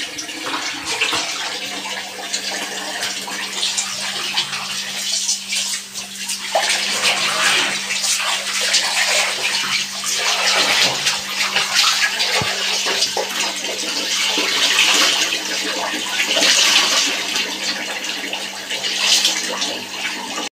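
Clothes being wrung out by hand in water mixed with fabric softener, continuous splashing and dripping close to the microphone with occasional wet squelches.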